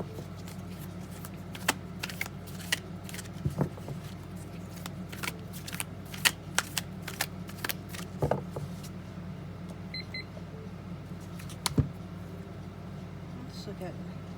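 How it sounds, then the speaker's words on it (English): Soft riffling and snapping of cards being shuffled, a series of quick crisp flicks scattered over a low steady background hum. "I'm going to shuffle and then cut."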